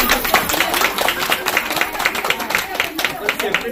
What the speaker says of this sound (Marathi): परत एकदा टाळ्या व्हायला